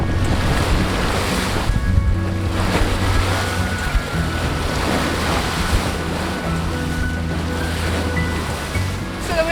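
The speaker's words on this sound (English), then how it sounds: "lurching us forward and punching through the waves with ease" A sailboat punches through Indian Ocean waves in roughly 20-knot winds, with steady, loud surf and rushing water over constant wind buffeting the microphone and no voices.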